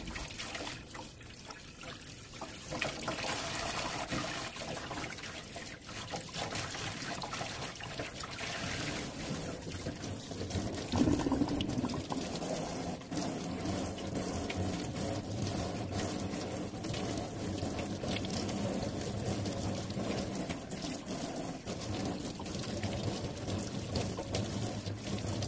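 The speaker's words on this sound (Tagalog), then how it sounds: "Ito na po ang ating huling banlaw." Running water rinses pork mesentery for crispy chicharon bulaklak, a steady close splashing trickle that keeps going the whole time, with shifting gurgles as the meat is turned under the flow.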